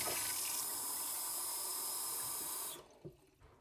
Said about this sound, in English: I'm going to run their water up to the 200 milliliter line on this beaker